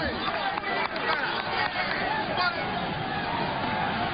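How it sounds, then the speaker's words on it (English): A baseball crowd at Wrigley Field murmuring in stunned disbelief, a steady, dense babble of many voices filling the stands at moderate volume, with no clear cheer rising from it. "And this crowd at Wrigley Field stunned in disbelief."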